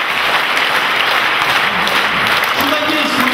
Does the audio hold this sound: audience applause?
yes